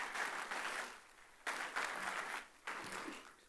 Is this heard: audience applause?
yes